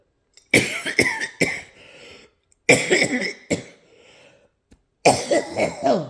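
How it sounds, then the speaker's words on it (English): Several harsh coughs in bursts, with pauses between groups, close and loud, followed by a final cluster of raspy coughing. "He coughed"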